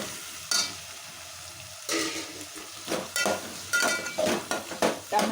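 Chopped tomatoes frying in a pan for a masala ivy gourd curry, a faint simmer broken by louder bursts of sizzling and spoon scraping that come in uneven strokes, with no talking.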